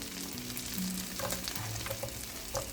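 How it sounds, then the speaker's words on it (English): Carrots sauté in butter and vegetable oil with a steady, close sizzle and a few light stirring clicks, no voices. "Butter and vegetable oil. Sauté the carrots."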